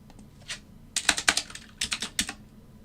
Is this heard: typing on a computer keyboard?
yes